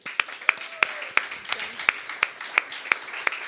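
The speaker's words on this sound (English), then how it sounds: "Just a massive round of applause to them" Audience applause at a roots music club gig, heard as a run of sharp, evenly spaced claps at a steady rhythm, moderately close, with no voices over it.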